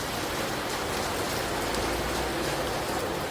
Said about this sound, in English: So on days like today when it's raining